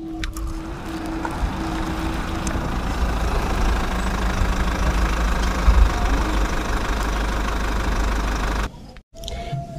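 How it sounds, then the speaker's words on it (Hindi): Tractor engine running steadily with a low, knocking diesel chug and a constant loud rumble for several seconds, then cutting off abruptly near the end. "और रामू भैया ट्रैक्टर लेके मूर्ति लाने के लिए निकल जाते हैं।"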